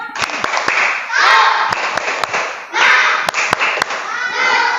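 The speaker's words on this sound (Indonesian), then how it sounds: "Coba ibu mau lihat tepuk semangat." Schoolchildren in a classroom do a rhythmic spirit clap, with loud, sharp, spaced claps punctuating bursts of excited chanting voices.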